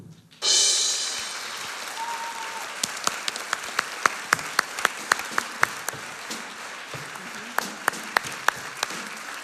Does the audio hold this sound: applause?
yes